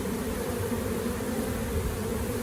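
A honeybee swarm fanning pheromone after being moved to a new hive, giving a dense, continuous buzzing hum, close and steady throughout.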